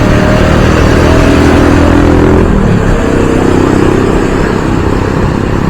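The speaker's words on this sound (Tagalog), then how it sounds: "Ano kasi may mga motor sa gilid." Motorcycles passing close by on a busy city road on Katipunan, a loud steady engine drone with revving as they go by, no talking.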